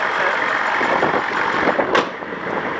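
A pickup truck engine idles with a steady low rumble and hiss, fairly close, with a brief sharp click partway through.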